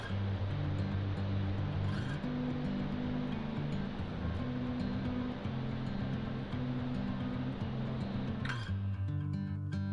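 A waterfall near Briksdal Glacier in Olden, Norway roars continuously as a broad, loud rushing wash of water, steady throughout with a few brief splashy bursts.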